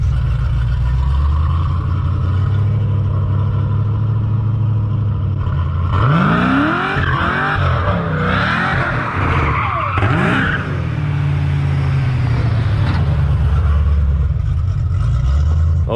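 A Monte Carlo with an LSA engine swap pulls out on a test drive, its deep, steady engine note rising as tires squeal and chirp in a short burst midway before settling back into a loud rumble.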